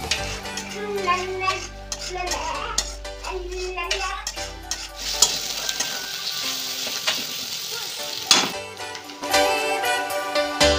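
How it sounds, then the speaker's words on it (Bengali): Minced mutton keema fries in hot oil with garam masala in a pan, a steady loud sizzle throughout with scraping stirring strokes and occasional clinks of a utensil against the pan, no talking. "এ সময় মাঝে মাঝে ঢাকনা খুলে নেড়ে দিতে হবে যাতে নিচে ধরা না লাগে"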